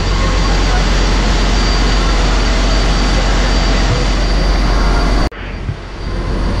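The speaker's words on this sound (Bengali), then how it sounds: "এটা হচ্ছে সুন্দরবন 10 লঞ্চের ইঞ্জিন রুম। এটা হচ্ছে একটা ইঞ্জিন" Diesel engine of the Sundarban 10 passenger launch running in its engine room, a loud, steady, dense mechanical roar with deep low rumble that holds constant, briefly dips near the end, then resumes; a faint voice is under it.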